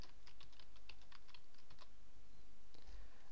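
Typing on a computer keyboard, a quick run of light, close key clicks at an uneven rhythm, fairly quiet with a faint steady hum underneath.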